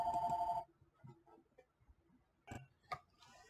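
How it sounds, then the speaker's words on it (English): An incoming call sets a phone ringing, a loud electronic trill at the start that cuts off abruptly, followed by quiet handling clicks and small knocks. "Had a phone call. Sorry if you heard the ring there."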